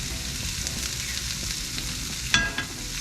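Korean gochujang paste fries in a pan with a continuous, moderately loud sizzle, and a couple of brief spoon scrapes and taps come near the end.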